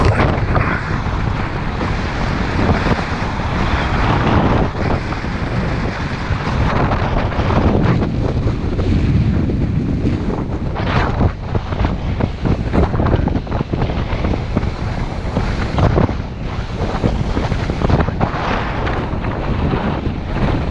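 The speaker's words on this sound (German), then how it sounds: "Windig, aber wunderbar." Strong wind roars and buffets the microphone nonstop, with a broad rushing noise and water sloshing beneath it, no voices.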